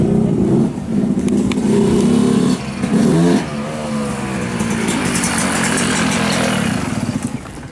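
A 2019 Yamaha YZ250F dirt bike engine idles and revs nearby, with a couple of sharp throttle blips rising and falling before settling into a steady, buzzy idle.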